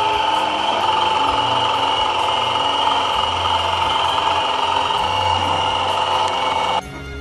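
An evacuation machine draws ink, crust and air out of an inkjet ink cartridge without piercing it, a loud steady mechanical drone and hum that drops abruptly near the end.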